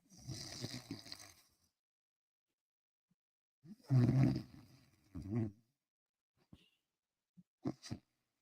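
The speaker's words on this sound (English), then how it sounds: "I was busting a big snore" A person snores loudly in a few rough, drawn-out breaths separated by silence, followed by shorter snorts and sniffs.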